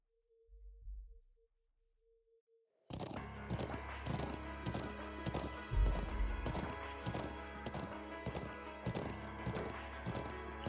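Horse hooves clip-clop steadily in the Trails of Cold Steel video game, a loud continuous trot with a music-like backdrop, starting suddenly after a brief quiet low rumble and faint tone.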